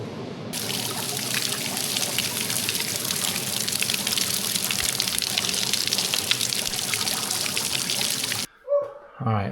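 Water pours steadily through a massive pipe, a dense continuous rushing trickle that stops abruptly near the end before a brief quieter sound.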